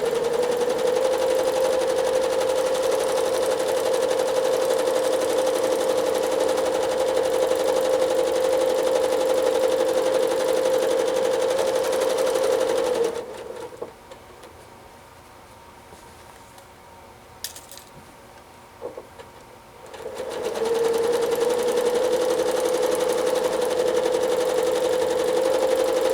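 A sewing machine quilting a loopy line decorative stitch hums steadily and loudly, stops for several seconds with small clicks and handling sounds, then starts up again at the same even pace.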